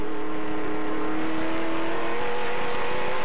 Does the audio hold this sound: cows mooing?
no